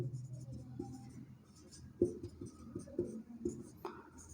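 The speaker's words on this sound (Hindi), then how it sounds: "यहाँ पर लिख लेते हैं इनको" Pen or marker writing by hand on a board during a Rajasthan geography lesson, soft scratchy strokes and a few taps under a quiet background with occasional faint talk.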